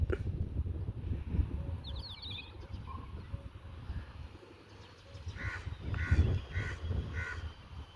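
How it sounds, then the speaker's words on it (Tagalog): Crows caw in a short series of four harsh calls at middle distance, over low rumbling outdoor noise and scattered faint bird chirps. "Ayun, may mga uwak pa."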